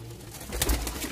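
Pigeons coo softly inside a breeding cage that holds young chicks, a single brief low call rising over faint background noise.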